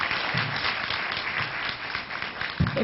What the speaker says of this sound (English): Please, a round of applause for our panelists one more time.